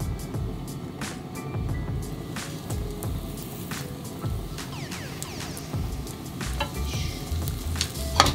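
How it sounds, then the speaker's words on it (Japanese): Chicken tenders shallow-fry in a little oil in a pan, giving a steady close sizzle and crackle. Stirring scrapes and clinks occur repeatedly over the frying. "油を全体に行き渡らせて少し吸わせるようなイメージで揚げていきましょう。"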